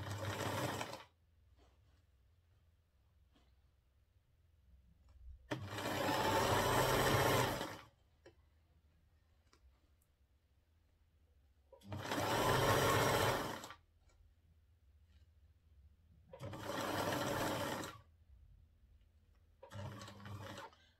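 A sewing machine stitches an elastic wig cap in four steady bursts of whirring, each a couple of seconds long, separated by quiet pauses, with a short fifth burst at the end; close and alone, no talking.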